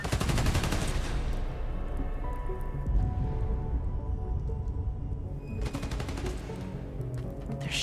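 Rapid gunfire from Spider-Man: Miles Morales, dense bursts of shots crackling close and loud, thinning briefly in the middle before another heavy volley returns near the end.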